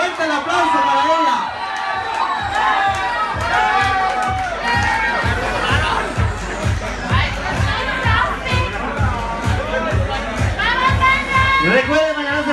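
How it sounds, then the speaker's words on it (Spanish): A crowd at a Miss Belleza Gay Latina 2015 pageant coronation cheers, shouts and claps loudly and continuously for the newly crowned queen, with an announcer's amplified voice speaking over the noise throughout. "¡Fuerte el aplauso para ella!"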